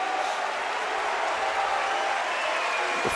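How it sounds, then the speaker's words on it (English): A crowd at a judo match at the Tel Aviv Grand Slam cheers and claps in a steady, broad roar that holds level throughout, filling the arena at a distance. "The first movement from Palchik draws a cheer from the crowd"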